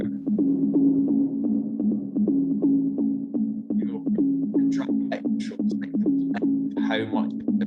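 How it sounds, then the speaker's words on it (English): A synth bass line in Ableton pulses in a steady repeating rhythm, fed through delay and heavy reverb so each note trails into echoes, while brighter percussive hits and higher tones join partway through. "you'll hear the bass echoing about now"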